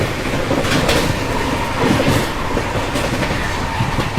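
The Bihar Sampark Kranti Express passes close by, a steady loud rumble of rolling wagons with rhythmic clickety-clack wheel beats over the rail joints.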